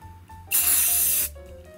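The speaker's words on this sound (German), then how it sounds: "Und sprühe das Ganze zum Abschluss einmal mit Haarspray ein." Hairspray from an aerosol can is sprayed onto a temporary tattoo in one loud, steady hiss of about three quarters of a second, close by, with quiet room tone before and after.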